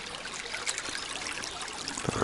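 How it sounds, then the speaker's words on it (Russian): A spring stream flows into a taiga lake, a steady close trickle and burble of running water with no voices and no pauses. "еще ручей впадает в это озеро"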